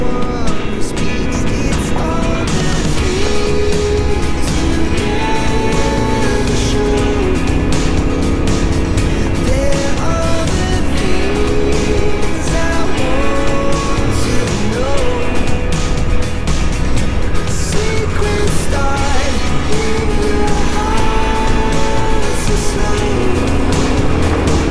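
A Yamaha Ténéré 700 World Raid motorcycle rides an off-road trail at the foot of the Jura, its engine droning loudly and steadily throughout with small shifts in pitch as it goes.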